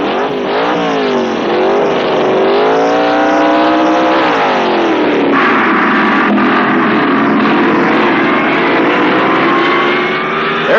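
Pro Stock drag race cars at the 1970 NHRA US Nationals roar loudly and continuously, engines climbing in pitch through repeated gear shifts across the run, with no talk over them.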